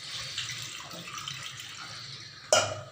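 Water pours from a tap or vessel into a pot of fish curry, a soft steady splash and trickle ending in a brief louder splash near the end.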